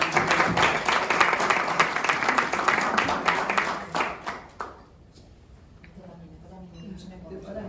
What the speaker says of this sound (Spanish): Les pido un aplauso para el